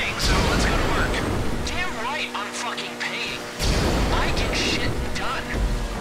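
Homing missiles launching and exploding in GTA Online during the Doomsday Heist, loud booming blasts and whooshes at the start and again midway, with game noise throughout.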